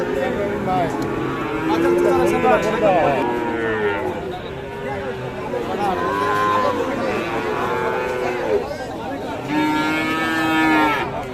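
Several cattle, crossbred and Friesian bull calves at a livestock market, moo repeatedly, low drawn-out calls overlapping each other, with a person talking in the background throughout.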